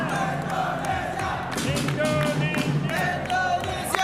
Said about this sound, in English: Okay, we got cheering for Indonesia here too.